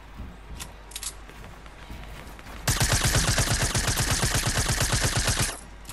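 Rapid automatic gunfire in a video game squad match, a dense burst of shots lasting about three seconds after a quieter start with a few faint clicks.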